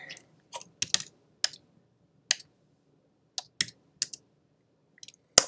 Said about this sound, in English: I'm typing around a bunch of stuff on my desk